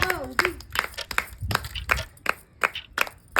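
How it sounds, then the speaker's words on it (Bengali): During an egg-eating challenge, a handful of people clap in irregular bursts, close and uneven, with a short voice at the start. "হাততালি দাও, কি করছো? উৎসাহ করো খেলোয়াড়দের।"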